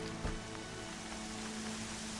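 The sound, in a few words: rain in the video game Horizon Zero Dawn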